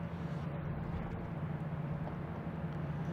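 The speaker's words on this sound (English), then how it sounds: "We have JetBlue coming in from Detroit. Oh, sorry, Dallas-Fort Worth." JetBlue airliner arriving at Boston Logan Airport, a steady low engine rumble and roar that holds evenly throughout, moderately distant with no voices over it.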